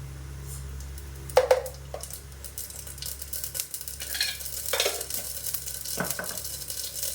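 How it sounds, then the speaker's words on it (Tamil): Mustard seeds frying in hot oil while being stirred, a soft continuous sizzle with scattered scraping strokes and occasional sharper clicks, moderately quiet and close. "கடுகு கொஞ்சமாக போட்டுக்கலாம்"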